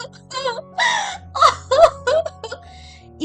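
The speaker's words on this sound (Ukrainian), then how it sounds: "вона так гірко плакала" A girl sobs and wails in uneven, breathy bursts, her voice rising and breaking, close up with brief gasps between cries.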